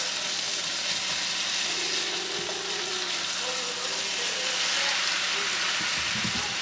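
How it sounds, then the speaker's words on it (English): Southern goulash with potatoes sizzling steadily in a pan, a continuous close frying hiss with faint stirring and a brief clatter near the end. "See, we're frying it up just like potatoes."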